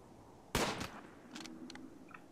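A single loud gunshot-like burst in the video game RimWorld, followed by a few fainter clicks and electronic blips over a low hum.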